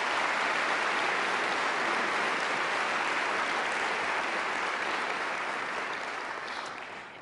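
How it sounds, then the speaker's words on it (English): Sustained round of applause from an audience in a house, dense and steady from start to finish and tapering slightly at the end, with no talking. "Would you please give them a round of applause?"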